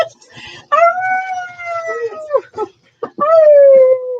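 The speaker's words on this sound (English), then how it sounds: "We're gonna get Woo to howl." A dog lets out two long, sustained howls close by, each rising then sliding down in pitch, separated by a short pause and a few yips.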